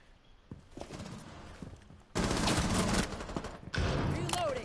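Gunfire in a tactical shooter video game match, first a scattered patter of shots, then two loud dense bursts of rapid fire from about the two-second mark, with only a brief break between them.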